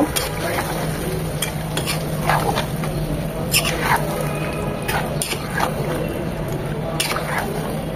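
Chicken pieces are stirred into a fried spice paste in a pan, with steady sizzling and frying under repeated wet scraping and squishing strokes of the spoon, close and continuous.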